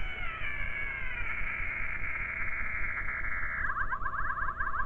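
A Drake B-line transmitter spot tone heard through the receiver while zeroing, a high whistling heterodyne tone that slides down, holds steady, then warbles into a rapid chirping beat over a bed of receiver hiss and rumble.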